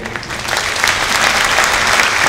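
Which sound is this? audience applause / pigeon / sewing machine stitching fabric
audience applause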